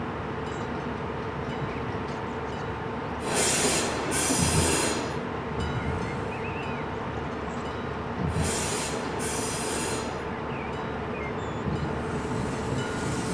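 Train wheels squeal sharply in two bursts of flange squeal over a steady rolling rumble of rail cars hauled by a DB BR110 locomotive in a train simulator game, with no voices.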